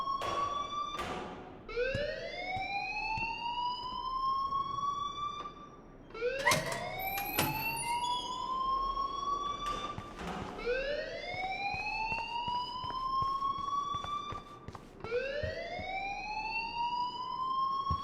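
An alarm sounds in a video game, a loud siren-like wail that sweeps upward and holds, repeating in four long cycles about every four seconds, with sharp clicks and knocks at the start of each cycle.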